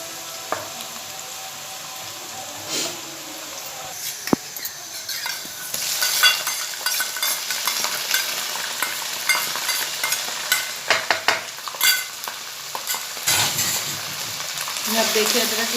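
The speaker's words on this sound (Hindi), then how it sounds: "अब देखिए अदरक लहसुन और हरी मिर्च का पेस्ट मैंने डाल दिया है" Ginger, garlic and green chili paste fries in a pan for makhani dal, a steady sizzle with occasional stirring scrapes and utensil clinks, close and fairly loud throughout.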